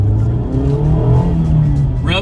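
A 2021 Mazda Miata RF Grand Touring roadster with a 6-speed manual, top down, revs its engine with a loud, steady droning note that climbs gradually, then rasps sharply at the end.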